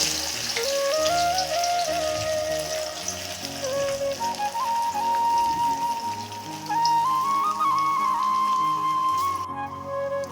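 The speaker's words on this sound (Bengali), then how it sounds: "আমি এবার আস্তে আস্তে করে চমচমগুলো ভেজে নেব" Bread chomchom sweets fry in oil in a kadai over medium heat, giving a steady, close crackling sizzle with spattering pops throughout, and no voices.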